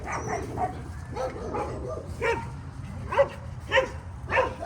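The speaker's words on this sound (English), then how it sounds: "when this dog starts barking after a squirrel or anything" A dog barks repeatedly in short uneven yips and bow-wows, mid-distance, with whimpery notes between barks over a low background rumble.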